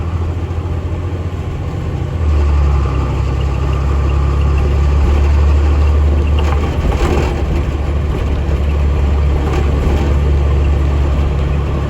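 A 2003 Blue Bird school bus with a DT466E diesel and MD3060 transmission drives around a block. Its heavy engine drones loud and steady from inside the cabin, swelling slightly as it pulls away, with no talk.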